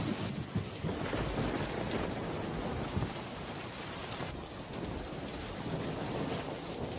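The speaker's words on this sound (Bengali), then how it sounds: "এদিকে তো বৃষ্টি থামারও নাম নেই।" Heavy rain drums down steadily on a village during a storm while thunder rumbles, filling the whole stretch with a dense, continuous roar and no voices.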